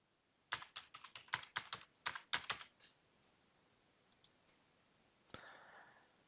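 Keys clatter on a computer keyboard as a password is typed, a quick run of close, crisp clicks followed by a few scattered taps and one final louder keystroke, fairly quiet with no speech.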